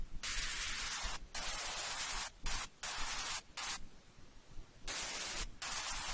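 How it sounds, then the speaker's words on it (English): Bursts of bright, hissy white noise, high-pass filtered with some resonance as a synth layer, the low end cut, switching on and off in uneven blocks with brief gaps between. "With my white noise, I like to put an EQ and cut off the lows"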